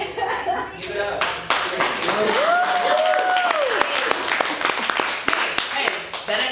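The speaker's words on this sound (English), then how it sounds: "your applause fuels me" Audience at a spoken-word poetry show in Huntsville claps in a dense, close burst of applause lasting several seconds, with a voice talking over it.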